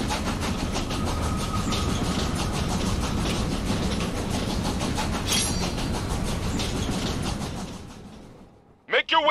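Train in the video game Killer is Dead rumbles steadily along with rhythmic clickety-clack of wheels on rails, a continuous loud drone that drops away at the end as a voice speaks.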